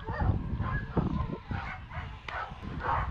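Greyhounds at a racing kennel bark and yip in short, irregular bursts, several dogs overlapping at close range with brief whimpering between the louder barks.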